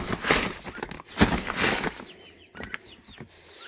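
Young chicks chirping and clucking around feeding time as Purina Flock Raiser feed is scooped out, with short bird calls and some rustling and wing flaps, fairly close and loud.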